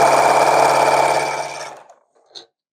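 A sewing machine stitches pieced quilt block fabric, running loud and steady for about a second and a half before stopping, followed by a brief small click near the end.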